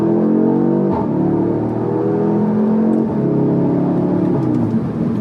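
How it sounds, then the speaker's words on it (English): Audi S3 8Y with 213 kW turbo engine and stock exhaust accelerating hard, a loud close drone climbing through gears with brief dips at each shift, no talk. "I know this is not the Akrapovic exhaust, but for some reason, listen to that."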